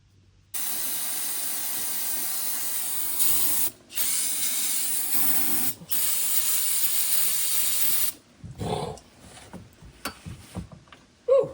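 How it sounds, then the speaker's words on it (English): Brake cleaner sprayed from an aerosol can into the open housing of a 1970 Chevelle's 12-bolt differential, heard as loud, steady hissing bursts with brief pauses between them, followed by a few scattered clanks and handling noises. "we'll hose it out with brake clean and throw the new stuff on there"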